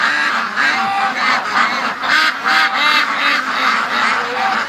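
A pet duck called Disco Duck in a backyard flock raised for charity, quacking loudly and rhythmically in a run of close, repeated calls.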